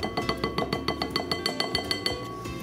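A utensil stirring in a cooking pot of huli huli chicken gives a rapid, regular series of bright metallic clinks, about five per second, close and alone.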